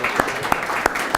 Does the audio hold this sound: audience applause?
yes